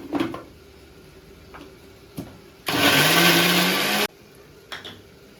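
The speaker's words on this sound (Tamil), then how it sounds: "மிக்சியில் அடிச்சுக்கிடணும்." A mixer grinder blitzes masala paste of garlic, small onions and water for crab masala in one loud, harsh whirring burst of about a second and a half, framed by quieter clicks and knocks before and after.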